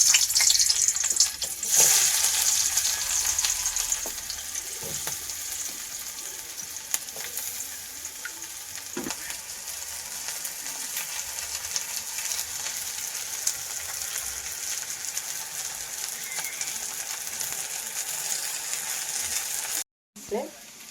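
Onions frying in oil for a Bengali rui fish curry, a steady bright sizzle throughout with occasional stirring clicks, close and moderately loud.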